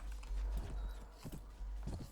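Horse hooves clip-clop in the video game Mount and Blade: Warband, a few close, fairly clear hoofbeats in short groups over a low rumbling background.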